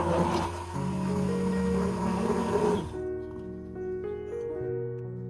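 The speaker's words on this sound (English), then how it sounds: "I use a blender to blend the entire mixture until smooth" A loud motorized blender whirs steadily as it blends aloe vera and water, then its pitch shifts and settles into a lower, smoother hum as it keeps running.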